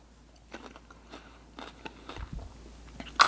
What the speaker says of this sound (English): I want to taste this cucumber. So let's cut a piece off the end here and try it